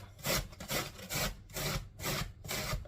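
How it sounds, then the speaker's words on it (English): An onion is rubbed against a grater in steady back-and-forth strokes, about six rasping passes close up with a regular rhythm and short pauses between them. "So, just going to grate the onion a bit."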